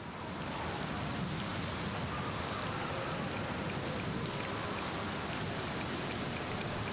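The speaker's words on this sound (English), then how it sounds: "Ever get bored of the rain, huh?" Steady rain falls in the video game Outer Wilds, a continuous dense hiss of drops on surfaces with no thunder, even and unbroken throughout.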